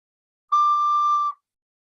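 A single clear, steady high D recorder note held for just under a second, pure and flute-like, played alone in silence.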